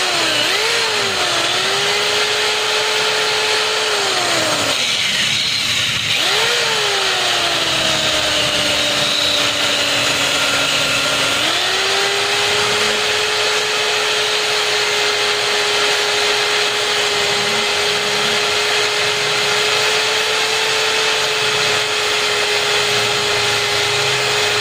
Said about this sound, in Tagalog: Habang umiikot, lagyan natin ng liha rito.